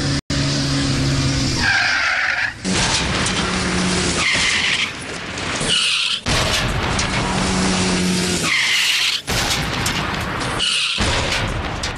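Car tires skid in a cartoon crash, long loud squealing screeches repeating back to back with brief gaps, joined by revving engine noise and a few thumps, with no talking.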